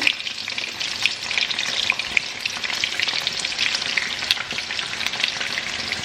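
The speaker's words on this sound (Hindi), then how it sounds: "अब इनको मैं 1 बाय 1 इस उबलते हुए ऑयल में डालूंगी" Cut pieces sizzle steadily in very hot oil, a dense continuous frying crackle with small pops throughout, close and even in loudness, with no voices.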